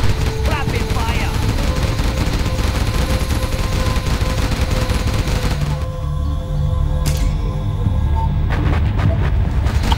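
Dense, rapid gunfire from battling units in Command and Conquer Generals, a loud continuous crackle of shots and bursts sustained throughout, briefly dipping midway before resuming.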